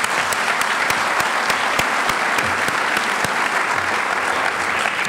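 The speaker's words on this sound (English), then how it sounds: "So can we please give them another round of applause?" An audience at a Chamber of Commerce State of the City address in Santa Monica gives a loud, continuous round of applause, dense clapping with a few sharper claps standing out.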